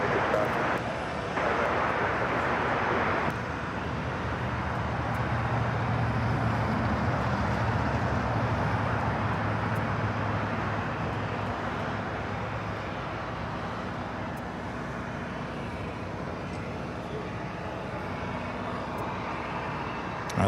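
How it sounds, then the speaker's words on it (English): A Japan Airlines Airbus A350-1000 taxis along a taxiway at LAX, its jet engines producing a steady, moderately distant rumbling whine with a broad hiss over the whole stretch. "looks like Japan Airlines, the A350-1000, heading back to Tokyo Haneda. Heading up to the north side there on taxiway Kilo."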